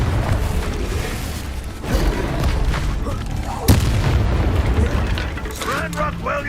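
Booming blasts from a Confringo blasting spell in a wizard duel, several heavy bursts spread over a few seconds amid continuous loud rumbling, with a voice shouting spell names over the din.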